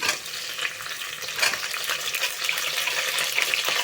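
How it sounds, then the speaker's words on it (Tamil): Onion, garlic and tomato sauté in a pan with a dense, steady sizzle and crackle close up, stirred throughout with a constant wet frying hiss. "தக்காளியை நல்லா வதக்கிக்கோங்க."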